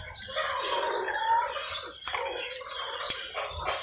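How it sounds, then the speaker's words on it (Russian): An old saucer is rubbed to make a squeaky sound meant to prompt a canary to sing. The scraping squeal is continuous and wavering, up close and moderately loud. "Или скрип старенького блюдца."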